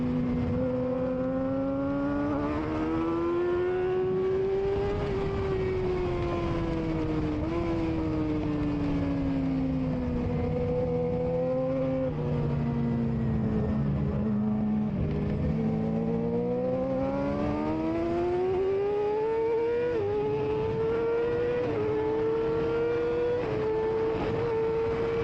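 A Yamaha R6 race motorcycle's engine drones continuously on a rainy track, its pitch climbing and dipping with throttle changes and chopped throttle, loud and close throughout with no talking.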